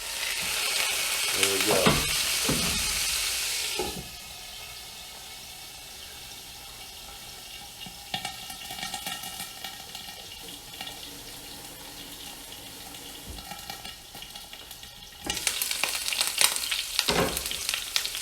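Ribeye steak hitting a hot surface for a Texas-style reverse sear after smoking, a loud sizzle at the start that drops to a steady quieter fry, then flares loud again near the end, with a brief spoken remark.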